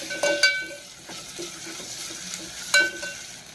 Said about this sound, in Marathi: टमाटर सुद्धा ह्याच्यात चांगलं आपल्याला फ्राय करून घ्यायचंय